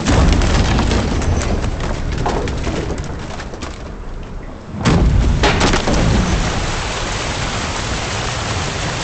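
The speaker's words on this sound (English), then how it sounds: "Didn't bargain for no storm." Thunderstorm at sea in The Witcher 3, with heavy wind and rain roaring steadily, a deep rumble swelling midway and dense crackling texture throughout, loud and enveloping.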